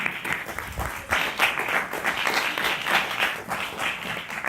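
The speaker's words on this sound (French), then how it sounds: "vous pouvez applaudir également 3 autres témoins de notre après-midi, Edith, Claire et Montserrat" Audience applause at a citizens' meeting in Conches-en-Ouche, a dense steady patter of many hands clapping throughout, fairly close and moderately loud, with no speech.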